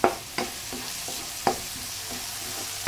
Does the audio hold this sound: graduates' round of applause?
no